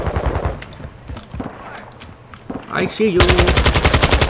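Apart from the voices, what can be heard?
gunfire in Call of Duty Modern Warfare 2 video game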